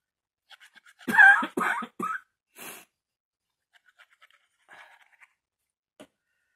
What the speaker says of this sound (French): je tousse, j'éternue, mais c'est affreux